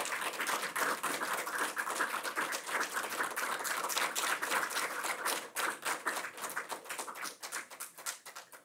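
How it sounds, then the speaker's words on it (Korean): Church congregation clapping to welcome a speaker to the front, a dense, steady patter of many hands that thins and turns more uneven toward the end, with no talk over it. "나오실 때 우리 박수로 환영하겠습니다."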